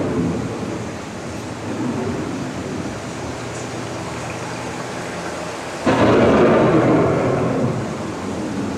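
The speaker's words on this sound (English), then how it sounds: "The approaching storm may seem violent and destructive to us" Loud thunderstorm at a theme-park ride, steady heavy rain with rolling thunder that swells into a sharp, louder crash midway, alone without voices.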